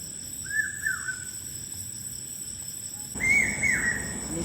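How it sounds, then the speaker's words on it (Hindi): An Asian koel calls at night, its rising whistled notes sounding twice in fairly close succession, then twice again after a pause, over steady insect hum and faint background noise. "ये कोयले बोलत है ना"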